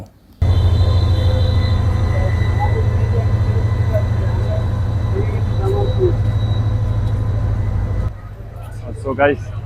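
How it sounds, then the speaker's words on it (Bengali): Tista Express train pulling out of Jamalpur Town Junction station, a loud low rumble and drone of the moving train with faint squeals and clanks, sustained for most of the clip before dropping away, with a voice briefly audible at the end. "আমরা যে ট্রেনটিতে আসছিলাম তিস্তি এক্সপ্রেস সেটা এখন ছেড়ে চলে যাচ্ছে"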